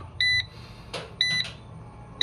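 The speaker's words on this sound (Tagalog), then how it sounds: "So nag-beat na yung timer." A digital timer beeps in short electronic bursts, three high-pitched tones spaced about a second apart, clear and moderately loud against a faint background hum.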